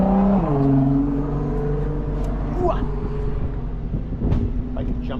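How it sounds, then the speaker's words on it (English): A Porsche GT3 RS sports car drives past at a track day, its engine note sweeping down in pitch as it goes by, with a steady vehicle rumble and people talking over it. "Oh, there goes the GT3 RS."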